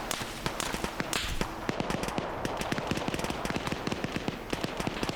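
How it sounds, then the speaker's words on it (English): Rapid machine gun bursts in a Russian-front military shooter game, sharp repeated cracks firing in steady rhythmic volleys over a dense background of battle noise, with scattered distant shots throughout. "we got a machine gunner up here in the thicket"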